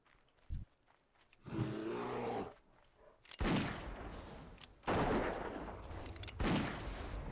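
Hip-fire gunshots in the Warcraft video game ring out as several loud, booming bursts separated by short gaps, with a rumbling roar beneath the heavier blasts.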